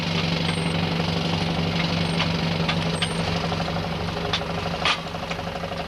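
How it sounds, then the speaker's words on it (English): An old wood-fired steam engine runs in a garden shed, a steady low mechanical chugging with a fast regular beat and occasional sharp clanks and hisses close by. "Some friends and I put this lovely old steam engine in a shed in our garden."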